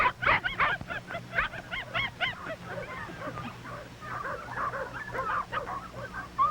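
A big dog barks in rapid bursts alongside yips and whimpers, mid-distance, over a steady low hum in an old film soundtrack.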